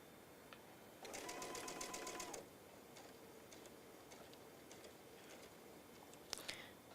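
A sewing machine stitches a fabric basket in a single soft whirring run of just over a second, then quiet handling ticks and light clicks follow; the machine is close but faint, with no speech.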